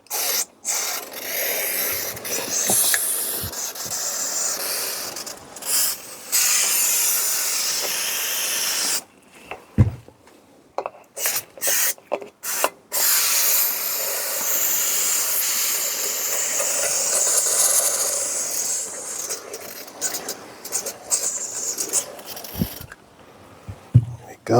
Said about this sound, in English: we're also going to spray inside the holes, because as you know, this is where the actual oil comes up into the cam